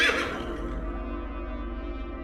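A horse whinnies loudly at the start in a forest setting, the call tapering into a steady low rumbling background that carries on to the end without speech.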